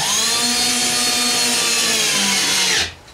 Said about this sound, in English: I'm using an inch and a quarter screw. I'll put that in there.